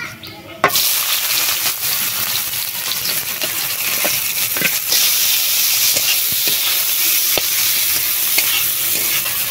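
Panch phoron, whole cumin, chopped onion and slit green chillies sizzle loudly in mustard oil in a wok, a steady bright hiss broken by occasional clicks and scrapes of stirring.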